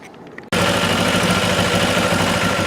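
A motorcycle engine idles after a carburetor sync. It starts abruptly after a short quiet moment, then runs loud and close with a steady, even throb and no voices.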